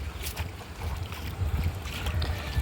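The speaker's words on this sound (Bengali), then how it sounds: "এই বোটটা চালাবে তার জন্য কিন্তু বোটটাকে একটু দূরে নিয়ে যাচ্ছে" A boat sits on floodwater surrounding village homes and ruined rice fields, heard as a steady low rumble mixed with gusty wind buffeting the microphone.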